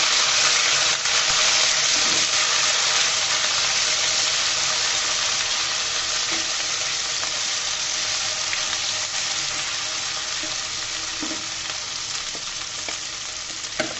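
Poultry chicken pieces with bone, coated in ginger garlic paste, frying in hot oil: a steady, loud, dense sizzle that barely changes, with occasional faint clinks of stirring.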